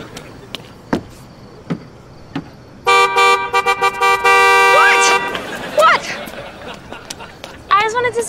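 A car horn blares in a long sustained honk after some scattered knocks and thumps, followed by excited voices talking and shouting.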